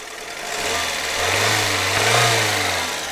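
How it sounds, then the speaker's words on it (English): A Toyota engine, its air temperature sensor unplugged, is revved up from idle in a smooth, steady rise and fall, close and fairly loud with a low mechanical hum and no voices. "rev up the engine."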